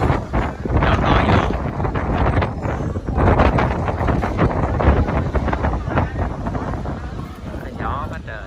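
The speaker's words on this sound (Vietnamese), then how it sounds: "Gió quá trời." Strong wind buffets the microphone at an outdoor Vietnamese sweet-soup (chè) stall, a loud, continuous rumbling roar with a person talking under it.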